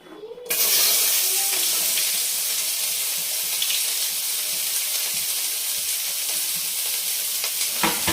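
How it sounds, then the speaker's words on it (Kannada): Chopped onions frying in a generous amount of hot oil in a pan over a low flame, giving a steady, close, continuous sizzle across the whole stretch with no talking. "ಈರುಳ್ಳಿನ 1-2 ರೌಂಡ್ ಫ್ರೈ ಮಾಡಬೇಕು. ಲೋ ಫ್ಲೇಮಲ್ಲೇ ಮಾಡ್ಕೊಳ್ಳಿ."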